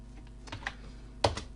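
Computer keyboard keys clack in a short, close run as code is typed, a few light taps followed by a sharper keystroke cluster, with no speech.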